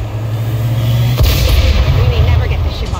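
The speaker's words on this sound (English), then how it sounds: "ship off the ground again if we don't stop that cannon." An alien cannon fires during a base defense battle in the modded XCOM 2: War of the Chosen video game, a loud booming blast with a rumbling low roar that swells and holds for several seconds.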